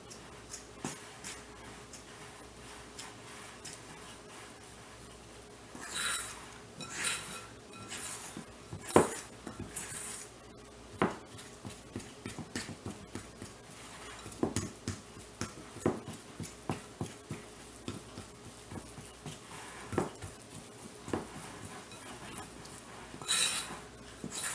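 A spoon scrapes and clinks around a bowl while powdered sugar is mixed into peanut butter, giving intermittent close taps and gritty stirring strokes, fairly quiet, with long soft stretches between the sharper knocks.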